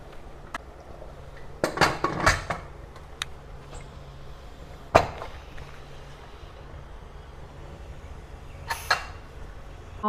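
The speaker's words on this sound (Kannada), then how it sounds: "ಕುಕ್ಕರ್ನ ಮುಚ್ತಿದ್ದೀನಿ ನಾನೀಗ" Metal clanks and clinks of a pressure cooker lid being set and closed on a pot of rustic-style mutton chops, a few sharp knocks spread over a quiet kitchen background.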